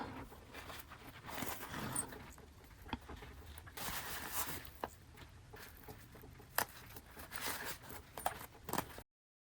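A zipper pull is worked along the lined-up teeth of a zipper on a sewn bag, giving a series of quiet scraping zips and small clicks at irregular intervals, close and faint.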